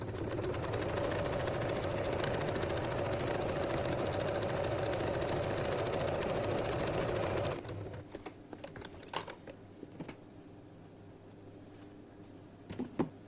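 A sewing machine stitching a woollen baby frock runs in a fast steady whirr for about seven seconds, then stops, leaving faint scattered clicks and handling taps.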